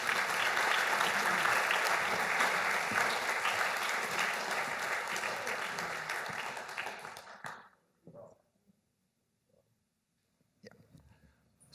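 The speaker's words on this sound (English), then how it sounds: "So let's give a round of applause for John Affleck Graves." An audience at a university reunion leaders forum gives a round of applause for a speaker. The clapping is loud and dense, then fades out and stops near the eight-second mark, leaving near silence with faint sounds at the end.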